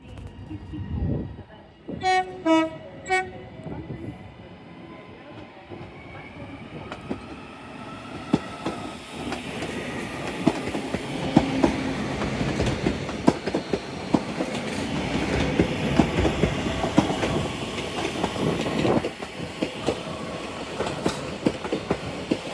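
British Rail Class 331 electric trains depart Manchester Piccadilly station: a short series of horn toots, then rising traction hum and rolling wheel clatter that builds and continues loudly, with a brief voice early on.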